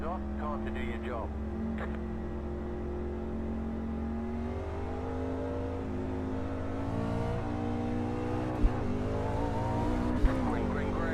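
Race cars circle Dover International Speedway in the iRacing simulator, a steady sustained engine drone with shifting revving pitch throughout, joined by a couple of brief sharp clicks near the end.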